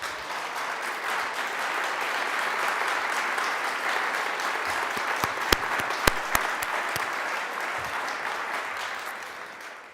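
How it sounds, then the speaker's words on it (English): Audience applause at the opening of a space studies program, steady dense clapping throughout with a few sharp louder claps near the middle, tapering off at the end. "They indeed deserve more than one applause, I believe."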